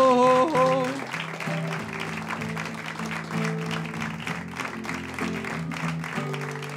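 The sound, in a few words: pub comedy audience applause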